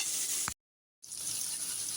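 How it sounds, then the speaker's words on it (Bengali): Potato pieces frying in oil for a mutton curry, a soft, steady sizzle heard at low volume, broken by a short silent gap. "আলুটা ভাজতে আমার 4-5 মিনিটের মতো সময় লাগবে।"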